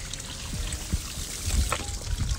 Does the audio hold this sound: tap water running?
yes